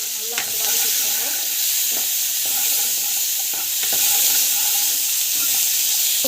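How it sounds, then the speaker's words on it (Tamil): Mustard seeds, cumin, chana dal, garlic and onion fry in oil with a loud, continuous sizzling hiss, punctuated by a few clinks and scrapes of stirring. "கடுகு, சீரகம், கொஞ்சமாக 4 கடலைப்பருப்பு, பூண்டு, வெங்காயம் நல்லா வந்து வதக்கி வச்சுக்கோங்க."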